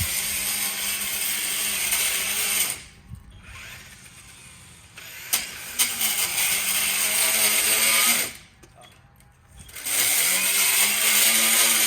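An Ego battery multi-tool with an edger head cuts along a lawn edge, a loud close buzzing whir that dips in two short pauses before revving back up.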